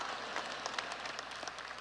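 Scattered, faint clapping from an audience at a baccalaureate ceremony, a soft, diffuse patter heard from a distance with a few slightly louder claps.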